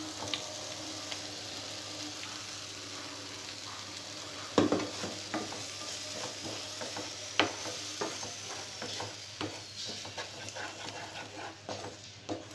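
Blended tomato and cashew paste fries with onion paste in a pan, giving a low, continuous sizzle under repeated stirring scrapes and occasional sharper clacks of the spoon against the pan.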